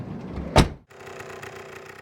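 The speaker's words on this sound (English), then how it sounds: "How about you go open the door and hop in?" The door of a monster truck is swung open with a single sharp thunk, followed by a brief mechanical hum as a hidden step drops out of the frame.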